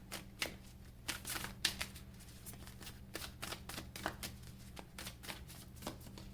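Tarot cards are shuffled for a reading in quick, papery riffling bursts, fairly soft and close, repeating in an uneven rhythm without any talk.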